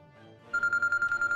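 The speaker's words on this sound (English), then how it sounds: "Ah, phone call." A telephone starts ringing abruptly, a rapid electronic trilling chirp repeating in quick even pulses, loud and close against a quiet background.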